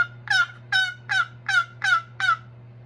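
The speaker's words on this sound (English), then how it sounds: "My go-to call, because I'm kind of old school, I guess, is a box call." A wooden turkey box call is scraped in six quick, evenly spaced raspy yelps, crisp and close, standing alone over a low steady hum.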